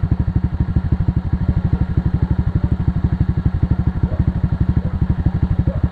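A motorcycle with a stock engine and an aftermarket T4S exhaust pipe idles close by, a loud, steady, evenly pulsing exhaust thump running throughout with no talk.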